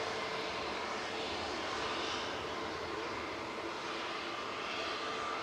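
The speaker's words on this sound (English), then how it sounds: "SAS heading back to Copenhagen, A320 Neo" An SAS Airbus A320neo jet departs Manchester Airport bound for Copenhagen, its engine roar a steady, fairly distant broadband rumble that holds level for several seconds with no talk over it.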